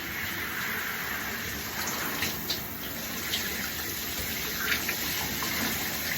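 A shower runs steadily during a hair wash, giving an even, close gush of water with faint splashes and shifts in flow and no talking.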